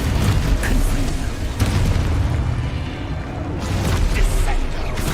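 Spell blasts from Confringo in the Hogwarts Legacy video game, a dense run of loud booming bursts and crackling impacts over dull battle clatter, with no gaps between hits.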